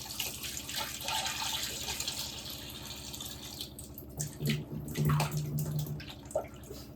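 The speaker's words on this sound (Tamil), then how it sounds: "எலும்பு வந்து உப்பு தண்ணில் 2 தடவை கழுவிட்டு, நல்ல தண்ணியில் 2 தடவை கழுவிட்டு" Goat bones washed in a basin of water, with continuous splashing and sloshing, intermittent drips and swirls close by, getting busier toward the end; no talking.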